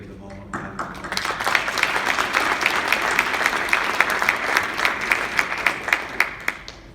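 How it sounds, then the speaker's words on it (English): Audience at an officer basic course graduation ceremony breaking into applause, clapping building within the first second and holding as a dense, fairly loud patter with sharp individual claps until it tapers off near the end. "Give them all a round of applause."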